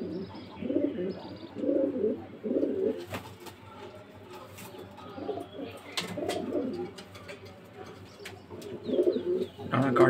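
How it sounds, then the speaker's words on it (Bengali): A pet teddy pigeon at home coos in soft, throaty rolling bursts, repeated several times close by, with some faint chirps and brief background noise between calls. "তো অনেক দিন পরে আমার বাড়ির একটা টেডি বার্ড আমি আপনাদের শখ করাচ্ছি। দেখুন টেডি বার্ডটাকে।"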